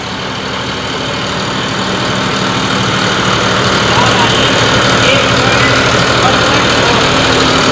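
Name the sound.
45 hp tractor engine running at 1500 rpm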